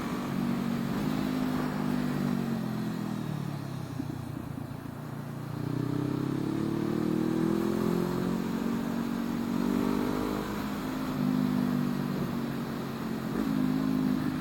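A Honda CB500F motorcycle engine drones loudly and steadily from the rider's position, its pitch rising and falling through repeated accelerations and gear changes, with wind noise underneath.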